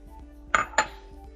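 A clear bowl is set down on a hard surface, giving two quick, close clinks about a quarter second apart and then quiet.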